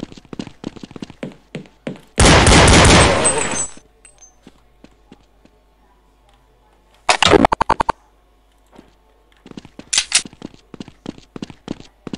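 Counter-Strike 1.6 gunfire, sharp rapid shots in short clusters, with a long loud sustained burst early and two shorter bursts later, close and punchy against near silence.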